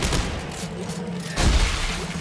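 Dense, continuous gunfire in the Dead Space 3 co-op video game as limbs are shot off, a thick wash of shots with a heavier burst near the end and no clear gaps.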